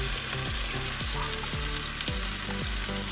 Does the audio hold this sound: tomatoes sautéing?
yes